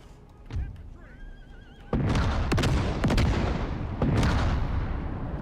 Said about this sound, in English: The cannon are doing a fantastic job.